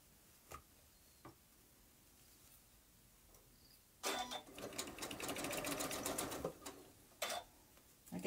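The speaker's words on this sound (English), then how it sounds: "Now I'm going to sew that side on there." A sewing machine stitches a churn dash quilt block in a quick, close burst of rapid needle clatter lasting a few seconds, preceded and followed by a few light ticks and handling taps in a quiet room.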